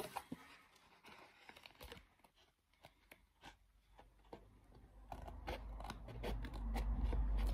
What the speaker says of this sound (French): je vais découper légèrement la partie en surplus là